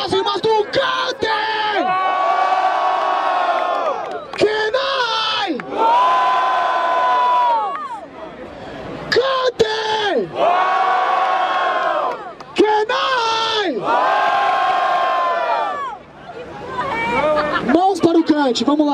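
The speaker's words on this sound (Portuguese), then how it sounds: "Barulho para as rimas do Kante!" Loud crowd cheering and shouting in sustained waves with brief dips between bursts, at the grand final of the 96th Batalha da Aldeia rap battle in Barueri, São Paulo.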